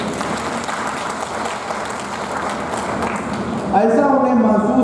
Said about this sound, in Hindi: आप सभी कम से कम तालियों की गड़गड़ाहट से उन्हें